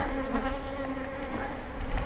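Honeybees buzzing at an open beehive during a spring hive inspection, a dense, continuous hum close by and fairly quiet, with no voices.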